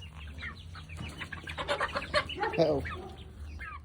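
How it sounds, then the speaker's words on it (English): Chickens cluck and squawk close by inside a coop, agitated bursts building toward the middle, with a person speaking briefly over them. "That right there is a mean looking chicken."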